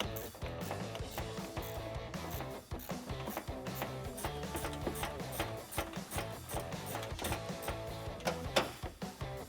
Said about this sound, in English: Grab your 10mm ratcheting wrench, or you can use a small socket here and tighten it down